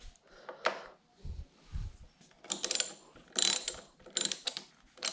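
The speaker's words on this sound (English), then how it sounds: "Other spacer, put it on the bottom, and then your nut. Now we'll get that tightened up." A ratchet wrench tightening the nut on an aftermarket clutch or brake lever of a Honda CBR650F, heard as short bursts of close, crisp clicking separated by pauses.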